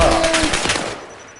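Rapid video game gunfire rattles in a short, loud, dense burst that fades over about a second, with no talk over it.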